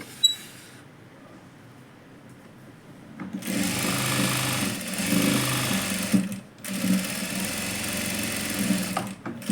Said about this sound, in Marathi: त्याच्यावर डबल शिलाई मारून घ्यायची